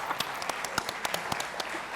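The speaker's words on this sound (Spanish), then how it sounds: "Eso merece un aplauso" An audience at a literary humor event claps to welcome a speaker, with scattered, distinct handclaps at moderate volume and no talking.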